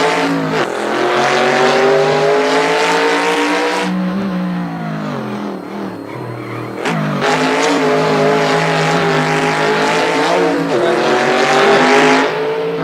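A car drives past and is recorded from the roadside. Its engine drones loudly and rises and falls in pitch as it revs, and someone speaks briefly over it.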